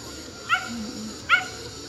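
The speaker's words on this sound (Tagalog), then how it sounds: "Ayun ang aso." Two short, high yelping barks from a dog, about a second apart, heard against a steady outdoor background hum.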